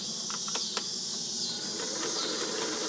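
Kenmore 158.1941 free-arm sewing machine running a stretch stitch in reverse, freshly cleaned and lubricated; a steady high mechanical whir with faint repeated needle ticks throughout, close and continuous with no talking.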